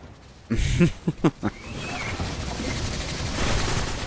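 Gunfire in the space shooter video game Destiny: a quick cluster of four or five sharp shots in uneven succession, loud and close, followed by a lingering rumble of game ambience and distant effects.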